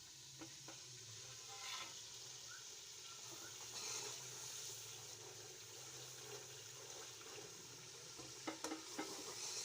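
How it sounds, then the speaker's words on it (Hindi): Masala sizzles softly in a pan over low heat while it is stir-fried for sobat, a Punjabi and Pashtun dish. A quiet, steady frying hiss runs throughout, broken by occasional light scrapes and clinks as a spoon stirs. "बस ऐसे इसकी भुनाई करते जाएंगे और इसको जो है ऐसे हल्की आंच पे इसको पकाते रहेंगे"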